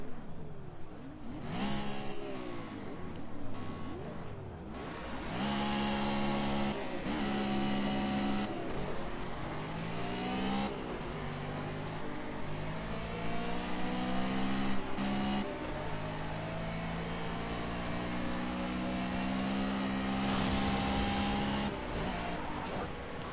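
Aston Martin and Ginetta GT4 race cars roar around a circuit, engines revving and shifting through gears in a sustained, loud drone as cars pass close by.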